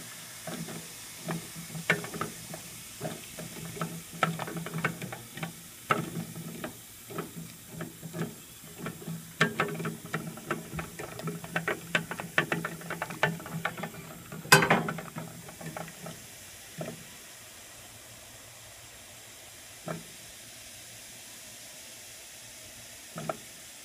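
Effervescent Rochelle salt solution stirred in a dish, a close series of irregular scraping clicks and fizzing crackles that come thick for about fifteen seconds, then thin out to a few isolated taps over faint hiss.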